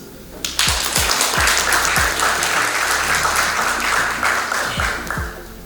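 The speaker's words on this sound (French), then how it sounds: "Je applaudis l'initiateur. Ça arrive. Je vais applaudir pour ça." An audience at the official launch of a popular private business sector in Haiti claps, loud dense applause with a few sharp individual claps standing out, building quickly and sustained to the end.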